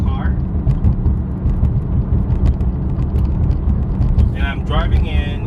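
Low, steady road and tyre rumble inside a car with a carbon fiber roof driving down a suburban street, a constant droning hum with someone talking over it near the start and end.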